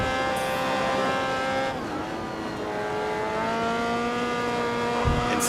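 Open-wheel race car engine in Grid Autosport screams at high revs, pitch dipping on a gear change or lift and then climbing again, loud and continuous with no talk.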